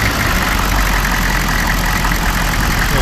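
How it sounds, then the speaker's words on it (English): A 1994 Chevrolet Silverado 4x4 pickup's diesel engine idles steadily just after startup, a loud, close, continuous rumble with a knocking clatter throughout. "it sounds like a Chevy diesel."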